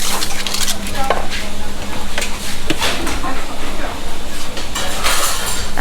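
Green papaya salad pounded in a mortar at a Thai street food stall, a steady rhythm of rapid, close thuds and scraping knocks, with someone talking over the pounding.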